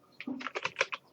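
Short, quiet burst of typing on a computer keyboard while writing C code, about half a dozen quick key clicks in close succession.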